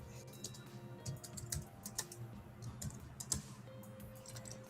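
Quick, uneven clicking of keys on a computer keyboard, typed steadily and fairly close, with no talking.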